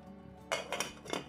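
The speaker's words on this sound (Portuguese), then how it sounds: "e colocar a tampa na panela." Metal lid set onto a cooking pot of boiling water for rice, giving a few close clinks and clatters of metal on metal with no talk.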